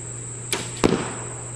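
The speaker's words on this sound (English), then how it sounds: "we're going to take our first shot at 20 yards" A compound bow looses an arrow at 20 yards: a sharp snap of release, then a moment later a solid thwack with a brief rattle as it strikes the target, over a steady low electrical hum.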